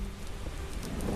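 Steady, dense rain pours down through a thunderstorm in a dark jungle at night, a continuous close hiss of drops with no distinct thunderclap.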